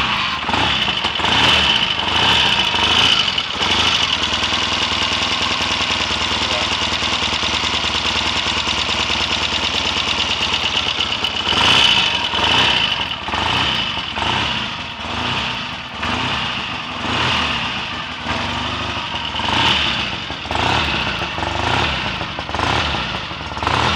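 A Triumph T120R motorcycle engine, apparently original since leaving the factory, starts up and runs loud and close, settling from an even idle into a string of sharp, pulsing revs and blips.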